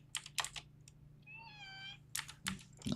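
A house cat gives a single short, clear meow in a quiet room, with soft clicks and typing-like taps around it.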